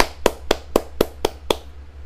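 Six crisp hand claps in an even, steady rhythm, close and loud against a low background hum, with no talking.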